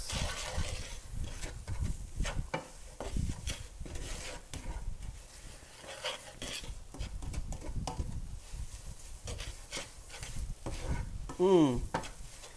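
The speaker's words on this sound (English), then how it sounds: "add your brown sugar. And you want to move your brown sugar around until it melts" Brown sugar melting and being stirred in a pan with roasted mushrooms and cauliflower for veggie tacos, giving a steady soft scraping stir with light sizzle throughout and a brief squeaky scrape near the end.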